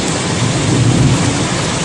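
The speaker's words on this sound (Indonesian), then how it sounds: "Papan reklame di Wisma Karya berhamburan di jalan, hujan angin." Heavy rain driven by strong wind in Subang, Indonesia, a loud, dense, continuous roar of downpour with no break.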